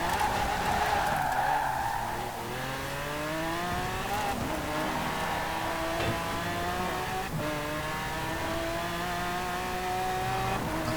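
A 1972 Lamborghini Jarama S races flat out in Forza Horizon 4, its engine note climbing steadily through the gears with brief shift dips, a loud continuous drone with some tire noise and no talk.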